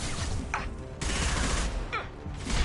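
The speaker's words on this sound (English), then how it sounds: "Nice shooting." Gunfire in Mass Effect 2 Legendary Edition, bursts of rapid shots with sharp cut-offs between volleys, loud and close, with faint game voices underneath.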